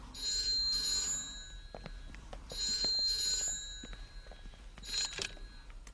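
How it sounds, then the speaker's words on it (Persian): A telephone rings in a Persian-dubbed Hindi film, three bursts of trilling bell tones each about a second long with gaps between, fairly clear against a quiet background. "تلفن"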